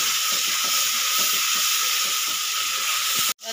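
Onion paste for a crab curry sizzles loudly in a hot pan with a steady hiss, while a spoon stirs it in a regular scraping rhythm; the sound cuts off abruptly near the end.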